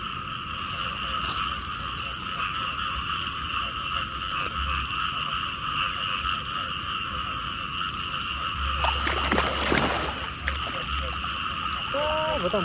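Frogs croak at night by flooded rice paddies, a dense, steady chorus of pulsing calls continuing throughout with a brief splash and some quiet talk near the end.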